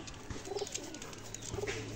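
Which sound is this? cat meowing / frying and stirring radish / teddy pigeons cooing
teddy pigeons cooing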